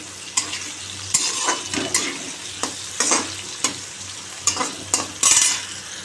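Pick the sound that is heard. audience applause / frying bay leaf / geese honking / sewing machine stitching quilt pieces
frying bay leaf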